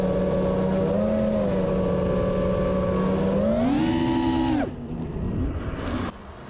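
Quadcopter motors on Racerstar 20 amp ESCs, run on 6S with worn props in a yard, give a loud, steady tonal whine that climbs in pitch, then drops away sharply, leaving fainter background noise.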